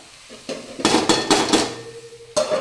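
Kudya flower vegetable stirred in a pan on low heat, a spoon scraping and clanking against the metal in a few loud, irregular strokes with quiet pauses between them.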